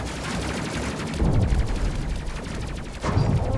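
Missile launcher firing in the Space Crew video game, rapid overlapping bursts and blasts in a loud, dense barrage with heavier thumps near the middle and end.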